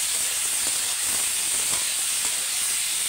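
Water poured into a pan of frying potato and ridge gourd curry gives a steady, loud broadband hiss and sizzle that holds evenly throughout, with no talking.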